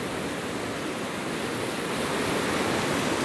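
Ocean surf rolls in on the Oregon coast as a loud, steady roar of broadband wash with no breaks, close and filling the whole scene, and no voices.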